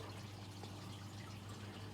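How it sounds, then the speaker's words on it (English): Water trickling and dripping down rocks inside a paludarium, a faint continuous splashing trickle with a low steady hum underneath, no voices. "You can see it trickling down the rocks, which is basically how I wanted it"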